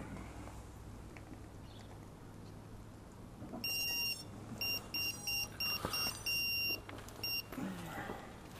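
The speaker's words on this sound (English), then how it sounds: "As you can hear, that buzzer's pretty loud." A ZMR 250 quadcopter drone's onboard buzzer sounds a loud run of shrill electronic beeps in short bursts of varying length, heard close over steady low background noise.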